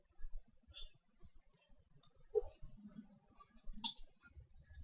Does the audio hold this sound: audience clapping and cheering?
no